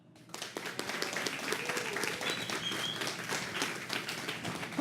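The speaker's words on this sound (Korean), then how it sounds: "그럼 지금부터 여러분들 뜨거운 박수와 함께 시작합니다." An audience at a Korean book talk concert applauds warmly, dense steady clapping that starts abruptly and holds for several seconds at moderate distance.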